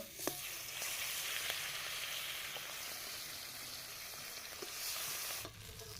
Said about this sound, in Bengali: বাকি কিছু মাছ ভাজতে বাকি আছে সেটাও ভেজে নেব সেকেন্ডবারে আমি ভেজে নিচ্ছি আবার